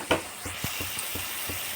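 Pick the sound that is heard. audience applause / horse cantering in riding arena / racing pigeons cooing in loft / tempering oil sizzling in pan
tempering oil sizzling in pan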